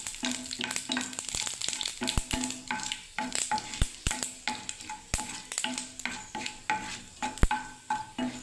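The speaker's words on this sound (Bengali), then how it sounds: "শুকনো লঙ্কাটা ভাজা হয়ে গেল বন্ধুরা" Dried red chillies frying with mustard seeds in a pan: a steady, close sizzle broken by sharp metallic clinks and scrapes of a stirring spoon against the pan.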